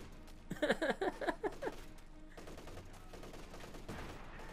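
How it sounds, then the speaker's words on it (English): Units in Company of Heroes 2 fire round after round at a church: a close burst of rapid gunfire cracks in the first seconds, then fades into a quieter, rumbling battle ambience. "Like, they're just firing rounds after rounds at the church."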